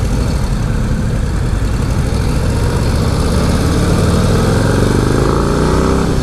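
A 2025 Harley-Davidson Low Rider ST riding in third gear around 2600 RPM, its V-twin engine giving a loud, steady, close rumble with wind noise throughout and no breaks.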